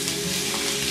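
Chopped onions dropped into hot oil with crushed cloves sizzle steadily, a dense even frying hiss held close and constant throughout, with no voices.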